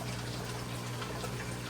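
Hygger water change pump running in an aquarium fish tank, a steady continuous hum with watery trickling and gushing, constant in level from start to finish with no talk.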